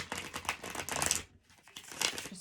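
Rapid papery riffling and crinkling of tarot cards being shuffled close by, in two busy bursts separated by a brief lull.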